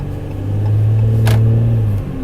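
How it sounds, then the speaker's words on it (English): A Ram 1500 EcoDiesel pickup truck pulls away on pavement under normal acceleration, its diesel engine giving a steady, loud, close low drone that builds and holds, then eases slightly at the end. "here we are pulling away from the corner, finally on some pavement. And under normal acceleration"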